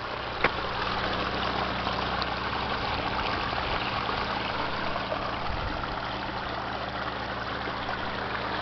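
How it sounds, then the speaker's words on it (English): A small mountain brook with spring runoff near Altona, New York, makes a steady, broad rushing and trickling wash. It runs continuously at moderate level, with a faint low hum underneath and no talking. "Mountain stream."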